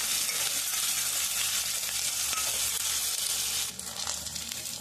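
Onions sizzle and fry steadily in a pan for a tomato chutney, a dense continuous crackle that holds loud and even, then dips slightly near the end, with no voices.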